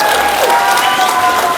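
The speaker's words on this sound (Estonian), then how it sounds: "Daamid ja härrad, teeme suure aplausi." An audience at a live stage show applauds, bright dense clapping that stays loud and steady across a brief burst.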